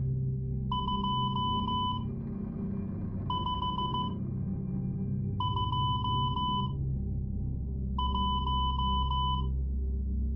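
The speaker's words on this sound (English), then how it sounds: "I'm going to send it in Morse code" Four bursts of steady electronic tones in Morse-code rhythm, short and long beeps in groups with pauses between, sounding over a low droning background hum.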